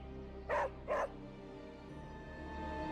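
Two short barks from the dog companion Charlie in Marvel Midnight Suns, spaced about half a second apart, fairly loud over a steady game ambience with no talk.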